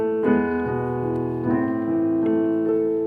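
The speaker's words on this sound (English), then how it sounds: "that was Für Elise, which is one of the most popular classical songs of all time" Für Elise played on piano, a short passage of sustained, ringing notes with a few clear attacks, heard alone and close.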